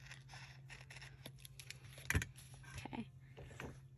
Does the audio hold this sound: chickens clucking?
no